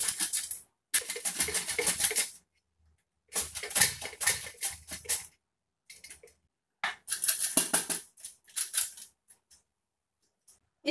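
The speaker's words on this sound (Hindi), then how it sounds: "तो चिप्स कटर से हम इसके स्लाइस को काट लेंगे।" Potatoes sliced for homemade aloo chips on a handheld chips cutter, heard as bursts of rapid crisp scraping strokes separated by short silences, fairly close and loud, with no talking.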